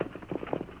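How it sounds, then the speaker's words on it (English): A two-horse team pulling a wagon makes a steady clip-clop of hooves, soft and somewhat muffled, in an even repeating rhythm at middle distance, with no voices. "Get along there, you horses."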